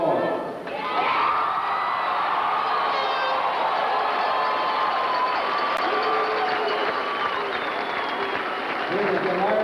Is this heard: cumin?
no